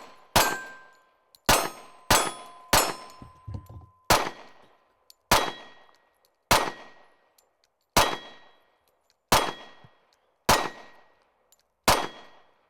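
Ten sharp, ringing pistol shots from a Springfield XDM 3.8 Compact .45 fitted with a long magazine, spaced about one to one and a half seconds apart at an outdoor range. Each report decays quickly, with a brief metallic clang from the target.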